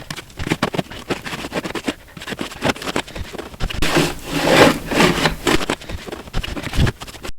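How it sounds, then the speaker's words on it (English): A hacksaw cuts through foam beneath a plastic exterior door threshold, giving a close, steady run of rough back-and-forth scraping strokes with no talk. "with these movements, I cut the foam under the threshold"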